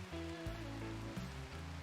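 Steady rain falls in the Rimworld video game, a continuous soft patter heard alone, with low tonal game music or ambience running underneath.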